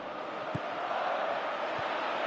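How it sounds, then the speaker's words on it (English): A football stadium crowd roars as a player runs at the defence, a steady broad wash of many voices calling out, with a couple of brief sharp spikes above the constant din. "Crowd calling for him to shoot."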